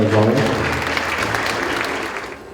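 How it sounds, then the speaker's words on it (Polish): Applause fills a school prom ball at a Polish high school in Więcbork, dense and loud from the start, with voices over the opening moments before the clapping thins and fades toward the end. "Brawo, piękne brawa, moi kochani"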